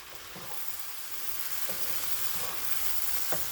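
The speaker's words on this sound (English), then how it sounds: "I took a spatula and I'm just going to kind of chopping those rice noodles up a bit." Spatula scrapes and taps as rice noodles for pancit are chopped in a pan, with a few soft knocks standing out over a constant sizzling hiss of frying.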